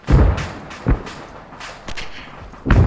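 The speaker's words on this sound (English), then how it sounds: "Hey, what was that explosion?" Heavy booming thuds from an explosion in a military video game, a few separate dull impacts spaced out over a few seconds, fairly loud with rumbling tails.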